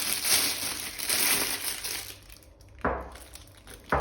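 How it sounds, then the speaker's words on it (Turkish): Crinkly plastic rustling and crackling as a piping bag is pulled open, with a couple of sharper crackles near the end. "Poşeti sona kadar açıyorum."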